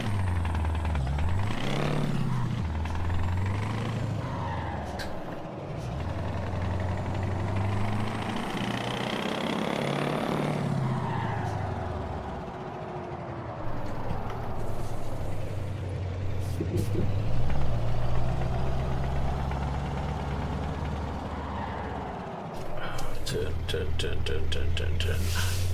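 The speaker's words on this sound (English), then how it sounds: "And now engine malfunction." In Euro Truck Simulator 2, a truck engine with a malfunction rumbles low and uneven, rising and falling through long revving swells, with hissing bursts like air brakes and someone talking over it now and then.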